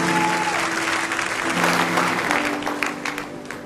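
A church congregation applauds and cheers continuously, a dense wash of clapping and crowd voices that stays loud throughout.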